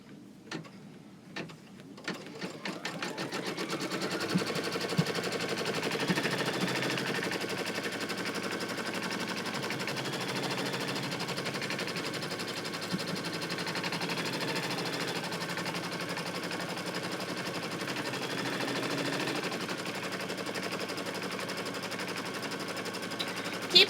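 An embroidery machine sews a placement stitch for an in-the-hoop pattern weight: a few separate starting thumps, then a fast continuous mechanical rattle of the needle, steady and close for the rest of the clip, with no talk.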